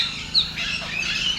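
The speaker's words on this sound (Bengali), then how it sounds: "এই হচ্ছে তোতা পাখি। এই যে অনেকগুলো আছে, ক্যাচার ম্যাচার করছে সব।" A flock of parrots in an enclosure at Alipore Zoo, Kolkata, chatters continuously with overlapping high chirps and squawks, a busy mid-distance din with no voices.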